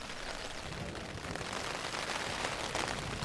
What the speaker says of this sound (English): So you're hearing the sound of rain and hail hitting my tent. There's obviously thunder going off in the background.